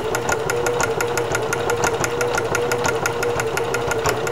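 A sewing machine stitches fabric with a fast, steady mechanical chatter, regular needle beats over a running motor hum, close and continuous with no talking.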